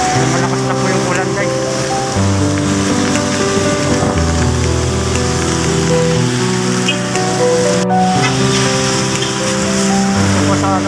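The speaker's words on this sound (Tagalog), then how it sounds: "Malakas na po yung ulan," Heavy typhoon rain pours along Ortigas, a dense loud wash of falling water mixed with passing traffic, while someone talks over it throughout.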